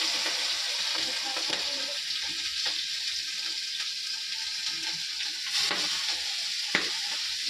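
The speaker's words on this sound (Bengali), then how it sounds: "কড়াইতে পাঁচ ফোড়ন শুকনো লঙ্কা দিয়েছি" Five-spice seeds and dried red chillies sizzle in hot oil in a wok, a steady, hissing frying sound with occasional stirring scrapes and small pops, close and fairly quiet, without talk.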